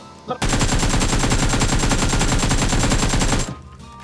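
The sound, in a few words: gunfire in a shooter video game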